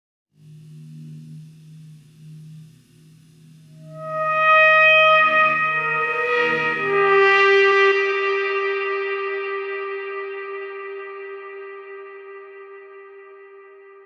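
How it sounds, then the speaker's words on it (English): Synthesized tones processed in BandLab with reverb and delay: a low held note gives way to a brighter layered chord that rises sharply, then rings out in long echoing tails that fade slowly, with no voices. "If I put on both reverb and delay, a bit of echo, have a listen to that."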